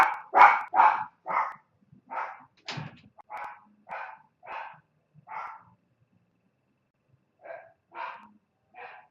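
A dog barks indoors in a run of about a dozen sharp, separate barks, loud at first and then spaced out, with a pause before a few more yaps.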